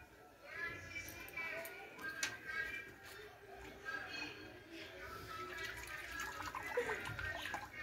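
Water splashes and drips steadily as soaked lentils are washed in a bucket at home, a soft continuous sloshing with occasional trickles, and faint talk can be heard underneath.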